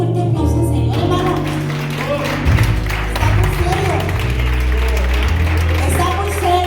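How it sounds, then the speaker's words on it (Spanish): A church congregation at a Spanish-language Sunday service bursts into loud, sustained clapping that goes on under a voice and musical tones. "Denle un fuerte aplauso al Señor, hermano."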